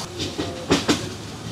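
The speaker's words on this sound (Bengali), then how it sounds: "ট্রেনের আরেকটা মজা হচ্ছে এই যে খাল বিল মাঠের পাশ দিয়ে দৌড়ে চলে যায় ট্রেনটা।" A train runs past canals and fields with a rumbling roll and a couple of quick clattering wheel beats over a steady hiss, short and close.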